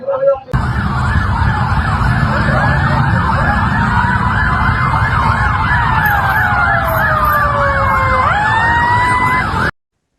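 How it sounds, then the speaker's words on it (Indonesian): Ambulances arrive at night at a police headquarters in Cimahi, West Java, their sirens wailing loudly and close in a fast, rising and falling yelp over rumbling traffic, then cutting off abruptly. "Sejumlah ambulans terlihat mendatangi Mapolres Cimahi, Jawa Barat pada Senin 9 Februari dini hari."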